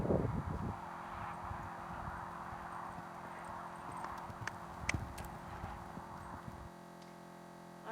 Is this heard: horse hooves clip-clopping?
yes